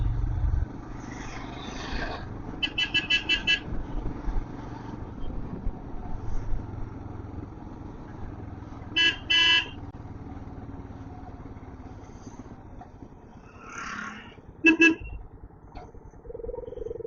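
Heavy road traffic near a railway crossing on a monsoon motorbike ride from Coimbatore to Munnar. Motorcycle engines idle and rumble, and several short horn toots sound repeatedly, some in quick stuttering bursts, over a steady background drone.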